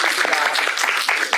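Audience applause at a conference session on health equity and structural racism, a dense steady patter of clapping filling the room without a break, with some talk mixed in.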